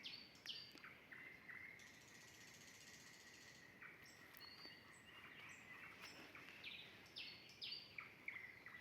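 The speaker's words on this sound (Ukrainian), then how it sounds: "Соловейко співає, коли будує гніздо." A nightingale sings a long, varied run of whistles, trills and chirps at moderate distance against a quiet outdoor background.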